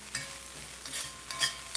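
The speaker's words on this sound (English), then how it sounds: "And stir it." Okra or eggplant curry is stirred in a pan, with a steady sizzle and scattered scrapes and clinks of a utensil against the metal, close and alone.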